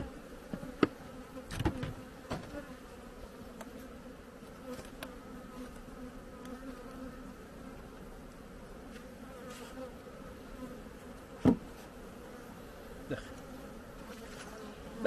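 Honeybees crowd the frames of a hive being readied as a queenless colony for queen rearing, giving a steady, soft, close buzzing drone throughout, with a few brief louder bumps and handling knocks.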